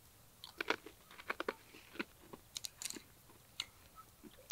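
Crunchy dried bananas being bitten and chewed up close, a string of sharp, dry crunches in irregular bursts with quiet pauses between them.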